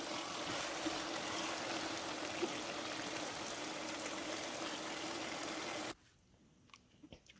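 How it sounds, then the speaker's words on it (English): Water pours steadily into a pot of chicken being cooked for soup in a Kenyan kitchen, a continuous broadband trickle lasting about six seconds before cutting off abruptly, followed by a few faint knocks. "I'll go ahead and add enough water"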